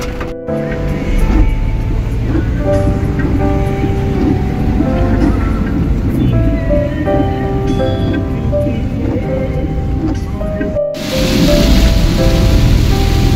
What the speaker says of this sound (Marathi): बघू शकताय जोरदार पाऊस आहे